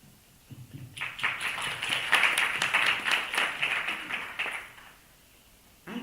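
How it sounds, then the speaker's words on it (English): Audience applause at a student network national assembly in Lithuania, a steady burst of clapping that builds after a quiet start, holds for a few seconds, then fades out. "Big round of applause to you guys."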